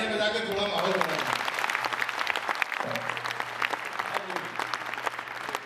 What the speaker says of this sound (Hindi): एक बार तालियां बजा के थोड़ा माहौल बनाएं